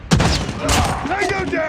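Marksman rifle gunfire in the mobile game Call of Duty Mobile: a sharp, loud shot up front followed by another blast and ringing game effects, with a voice talking over the end.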